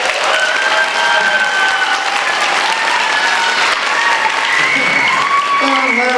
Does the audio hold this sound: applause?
yes